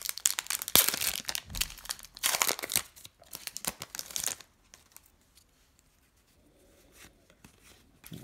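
Foil booster packs of L5R Path of the Destroyer collectible trading cards crinkle and tear open close by in quick rustling bursts, then the handling fades to near silence.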